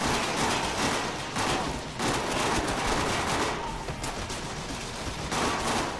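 Sustained gunfire from a weapon in the shooter MindJack: dense rapid bursts of shots, loud and close, coming in rhythmic volleys with brief gaps for about six seconds, no speech.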